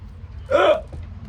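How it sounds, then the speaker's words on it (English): A single sharp hiccup from a woman, close and abrupt, over a faint low background hum. "No, I just get hiccups."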